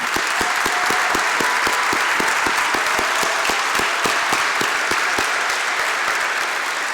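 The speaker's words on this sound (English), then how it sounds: "Let's give them a big round of applause." Sustained, dense applause from a large audience at a 2016 university commencement honoring the graduating class, steady and loud throughout with scattered sharp claps standing out.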